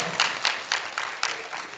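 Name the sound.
applause from meeting audience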